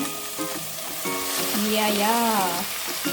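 Chicken frying in a pan gives a continuous close sizzle under a faint, wavering tonal hum that sounds like a voice, steady from start to end.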